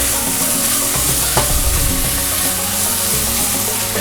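Lemongrass and tomato mixture sizzles steadily in a hot pan for Indonesian Sulawesi-style squid, with close, constant frying hiss and a brief clatter of stirring partway through.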